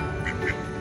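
Duck giving a short nasal quack close by, brief and fairly loud, at an outdoor meetup with people nearby.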